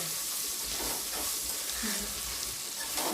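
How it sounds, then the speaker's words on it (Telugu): Onions frying with a spoonful of ginger garlic paste on a low flame for veg biryani, a steady close sizzle with faint stirring scrapes throughout. "1 స్పూన్ అల్లం వెల్లుల్లి పేస్ట్ వేసుకొని సిమ్లో పెట్టుకొని ఫ్రై చేసుకోవాలి."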